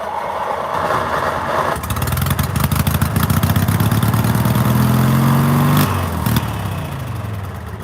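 Small engine sputtering and catching after the choke is applied, rising into a loud, close, uneven running drone with a rough throttle change near the end.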